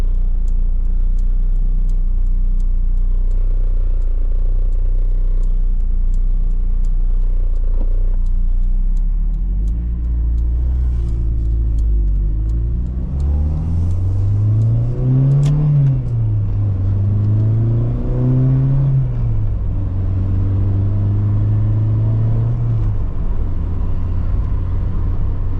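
A 1988 Volkswagen Scirocco 16v drives and accelerates, its engine droning steadily at first, then climbing through rising revs with gear changes and falling pitch between pulls, loud and close throughout.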